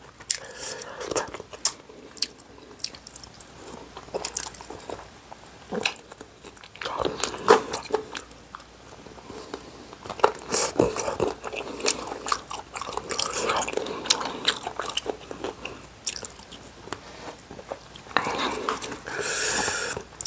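Close, wet chewing and biting as someone gnaws the bones of tender stewed duck wings cooked with curry paste and spices, with scattered crunches and smacking sounds over about twenty seconds.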